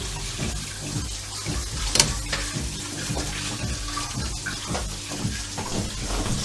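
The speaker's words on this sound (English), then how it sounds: "Just give them a little rinse in the sieve under the tap" Kidney beans being rinsed in a sieve under a running kitchen tap: a steady, close rush of water with a rattling, splashy texture and a few sharper clatters, no voices.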